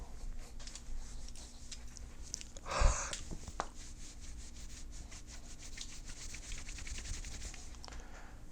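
A Samsung Note 10 Plus is wiped clean with steady, close rubbing strokes against its surface, a soft continuous friction with a brief louder scuff partway through.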